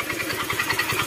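Motorcycle engine with a connecting rod problem running at idle, giving a rapid, regular knocking pulse close to the microphone, steady and alone for about a second.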